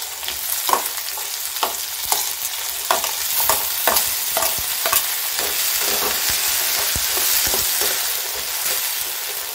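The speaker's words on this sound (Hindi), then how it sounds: "ये कद्दूकस करके रखा था इसको भी दो तीन सेकंड भून लेते हैं" Grated ginger and tomato sautéing in a pan for khichdi, a steady sizzle broken by repeated sharp scrapes and clicks of a spoon stirring against the pan, close and fairly loud, with no voices.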